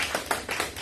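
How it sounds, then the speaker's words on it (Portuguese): A few audience members clap at a Spiritist lecture on liberty, equality and fraternity, a brief, moderately faint run of about four or five evenly spaced claps in a room. "Palmas para Allan Kardec."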